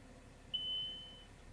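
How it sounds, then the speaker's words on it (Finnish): The warning buzzer on a Valtra 4- or 5-series tractor sounds after the driver leaves the seat with the PTO running: one clear, high electronic beep that starts sharply and fades, over a low, quiet background. "Tulee summeri ääni."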